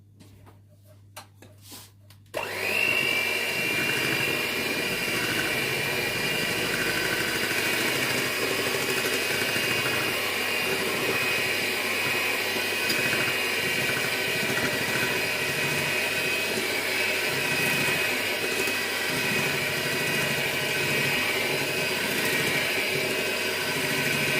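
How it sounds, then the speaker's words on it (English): An electric hand mixer starts abruptly after a few quiet seconds of cake baking, then runs with a steady, close motor whir that holds level to the end. "So I'm gonna get my hand mixer."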